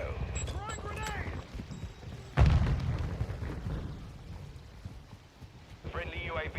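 Grenade blast in Call of Duty Modern Warfare II, a single sudden heavy boom midway that rumbles and decays, set among radio chatter and voices.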